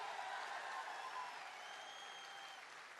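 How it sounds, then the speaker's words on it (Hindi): Steady audience applause filling a hall at a network-marketing company's success-day gathering, a dense even patter that holds throughout and fades slightly toward the end, with no talk over it. "जोरदार तालियां, कम ऑन, कम ऑन"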